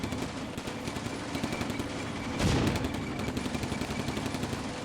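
Tank and infantry gunfire in Combat Mission 2, dense rapid bursts of close automatic fire with a heavier blast near the middle, continuing steadily to the end.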